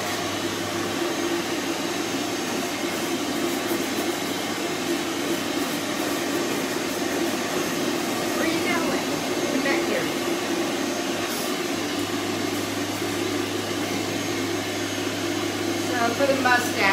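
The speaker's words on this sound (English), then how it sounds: "That's a nice thing about a wall mount as opposed to a stand dryer." A wall-mounted dryer blows steadily on a Coton de Tulear during grooming, a continuous loud whooshing roar of air that holds unbroken throughout, with faint brushing or handling sounds mixed in.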